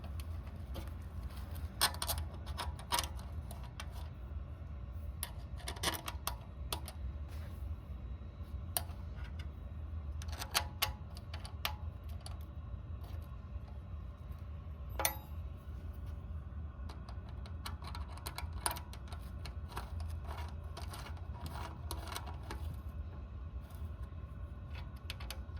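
Faint intermittent clicks and taps as a fuel pump bracket is bolted onto the gas tank of a 2021 Yamaha XT250 motorcycle in a cross pattern, scattered across a quiet background with a low steady hum.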